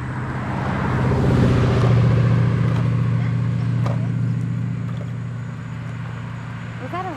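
A Ford Mustang passes on a neighborhood street. Its engine swells over a couple of seconds, peaks, then slowly fades as it drives away, fairly close by outdoors.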